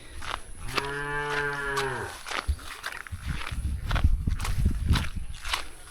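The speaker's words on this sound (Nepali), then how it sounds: "गाई कराएँ गाई" A cow gives one drawn-out moo close by, followed by shuffling footsteps and rustling, with no talking.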